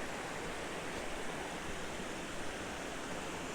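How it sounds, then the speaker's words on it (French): Small cascading waterfalls on a forest walk near Arbois in the Jura give off a steady, dense rush of falling water, close and unbroken. "Je continue la marche pour découvrir d'autres petites cascatelles"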